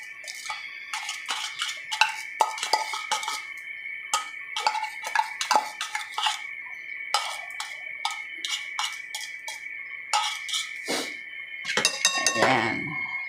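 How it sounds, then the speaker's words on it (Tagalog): A utensil scrapes and clinks steadily against a metal pan while scrambled eggs with tuna are stirred, a rapid irregular rhythm of close metallic taps over a faint steady tone. "Tapos, ilalagay natin yung tuna para isasama natin paghalo."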